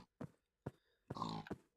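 Short, low grunts from a Minecraft pig come in quick separate bursts, one slightly longer, close but quiet.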